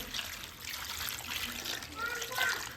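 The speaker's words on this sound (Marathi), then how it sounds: "भरपूर पाण्याने धुवायचे" Water splashing and trickling close by with soft sloshing as a bunch of tandulja leafy greens is rinsed by hand in plenty of water, under a faint background voice.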